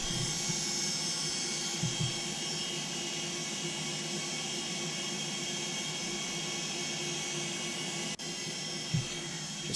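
A constant aircraft engine drone from a Felis 742 in the X-Plane 12 flight simulator hums steadily at moderate volume as engine number 3 runs, with a brief dip and a couple of faint knocks.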